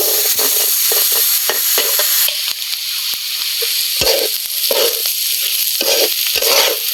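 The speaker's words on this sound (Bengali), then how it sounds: "ডালটা আমি ভাজা ভাজা করে নিই।" Dry, gritty sizzling and scraping as lentils are dry-fried and stirred around a hot pan, with irregular clinks and scrapes throughout.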